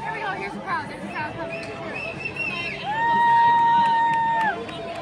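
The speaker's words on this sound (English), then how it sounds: "Here's the crowd." A crowd at Madison Square Garden after a Rangers game chatters and cheers nearby, with whistles and shrill whoops rising over the babble and voices talking close by.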